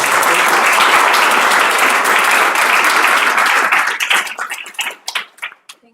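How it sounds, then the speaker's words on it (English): A conference audience gives the panelists a loud round of applause that holds steady for about four seconds, then thins into a few scattered, fading claps. "a round of applause for our panelists"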